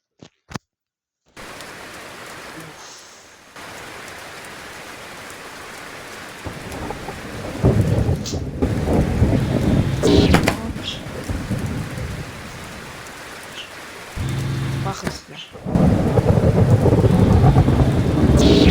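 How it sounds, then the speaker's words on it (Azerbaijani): Heavy rain pours down steadily during a thunderstorm while deep thunder rumbles roll in and swell louder toward the end; a brief voice is heard at the very start. "Yağış yağıyor."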